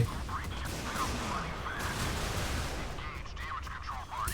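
Naval gunfire from a Kirov warship in the Modern Warships video game: a dense, continuous stretch of booming shots and crashing impacts, fairly loud, with someone talking over the action.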